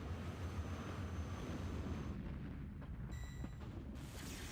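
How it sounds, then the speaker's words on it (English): A flashbang goes off in Final Fantasy VII, giving a loud booming blast with a broad rumbling roar, followed by a ringing, high tonal whine as the roar thins out. "Flashbang."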